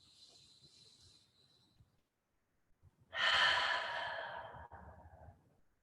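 One long, audible exhale out the mouth during a slow yoga breathing exercise, following a quieter inhale through the nose and a brief pause. Faint high insect-like chirping sits in the background.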